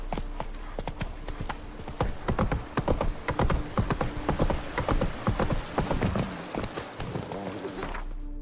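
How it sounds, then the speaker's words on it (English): Horse hooves clip-clop at a steady gallop in the Witcher 3 game, close and loud, with a short whinny and some talk over the hoofbeats. "Run, Roach."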